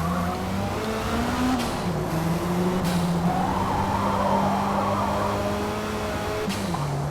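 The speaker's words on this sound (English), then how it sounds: "This Ferrari is actually pretty fast." Ferrari race car in a Forza Motorsport video game, engine droning loud and steady with pitch shifts through gear changes and a brief tire squeal, close and continuous with no talking.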